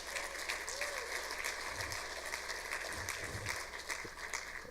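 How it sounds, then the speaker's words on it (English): Sustained, dense clapping from an audience at the North American Bitcoin Conference 2017, a steady wash of applause that holds at an even level throughout. "So if we get a round of applause for Mo Levin."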